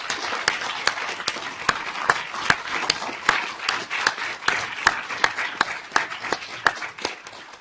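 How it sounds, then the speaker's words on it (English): Moot court audience applauds the four competitors after a final round, steady close clapping with sharp individual claps ringing out over a continuous patter for several seconds. "I think we should have a round of applause for all four of them"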